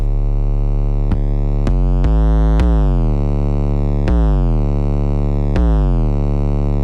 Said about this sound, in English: I made automation with a distortion for the 808 and I made it sound like this.